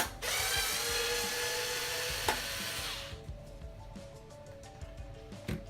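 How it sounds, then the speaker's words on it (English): A screwdriver drives screws into a WiiOaster build, a Wii console housed in a toaster, first as a steady loud whirring, then as quieter intermittent ratcheting clicks up close, with no talk. "So add some more screws on this guy here."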